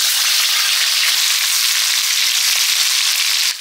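Chicken fat sizzling hard in hot mustard oil in a pan, a loud, steady close-up hiss of frying that holds evenly throughout and fades slightly at the very end.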